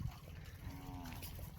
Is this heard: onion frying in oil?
no